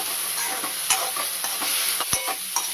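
Ivy gourd (tendli) stir-frying in a little oil, a steady low sizzle with scattered stirring clicks and scrapes, close and alone.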